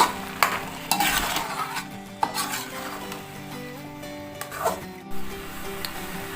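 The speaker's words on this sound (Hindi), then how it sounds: "इसको हम चलाते रहेंगे" Carrot halwa is stirred in a pan, with repeated close scrapes and knocks of the spoon over a soft sizzle and no talking.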